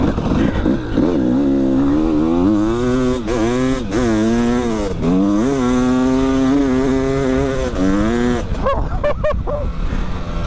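A dirt bike engine revs hard and close, a loud buzzing whine that climbs and dips repeatedly in pitch, holding steady at high revs before a few sharp blips near the end.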